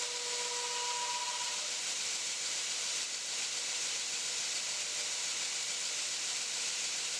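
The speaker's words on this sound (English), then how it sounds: "I'll go back onto that 2x72 grinder." A 2x72 belt grinder running a 120-grit belt grinds a knife bevel, giving a steady, faint abrasive hiss throughout with a brief whining tone near the start.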